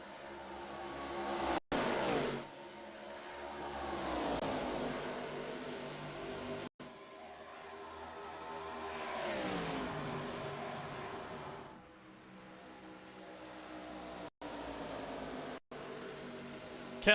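Race cars roar around Charlotte during a Sunday Night Thunder event, their engines swelling and fading as they sweep past in a continuous, loud stream with rising and falling pitch.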